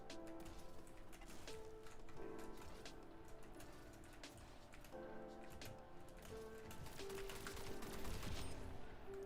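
Gunfire in the video game Splitgate, a dense, continuous stream of rapid shots and clattering effects layered over steady game ambience, moderately loud throughout.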